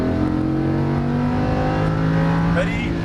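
A Lamborghini Huracan LP610 engine pulling hard at full throttle, a loud sustained roar with rising harmonic pitch, heard close as from onboard the car on a track.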